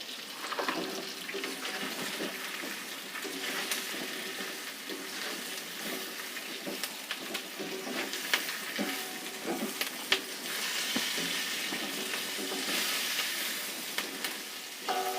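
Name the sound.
fried chicken pieces added to pan and stir-fried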